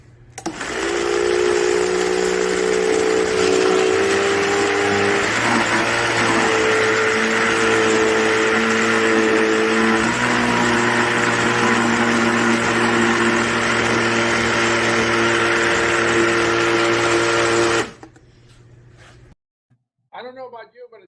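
A loud ice cream maker motor churns steadily for about eighteen seconds with a droning hum that shifts pitch a few times, then stops, leaving brief quiet noises.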